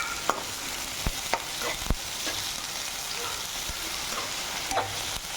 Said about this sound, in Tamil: நல்லா எண்ணெய் நல்லா சூடானதுக்கு அப்புறம் வெங்காயம் போட்டிங்கன்னா சீக்கிரம் வதக்கி வெங்காயம் நல்லா வதக்கிக்கோங்க.